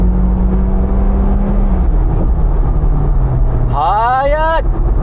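A Mitsubishi Lancer Evolution X (CZ4A) with its 280-horsepower engine pulling at full throttle from inside the cabin, a steady droning engine note rising and shifting with a brief burst of harmonic whine near the end, with someone talking over it.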